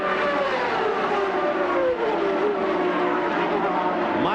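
Indycar race cars roaring past on a track, a loud sustained engine drone with pitch sweeping downward as they pass, close and continuous for a few seconds.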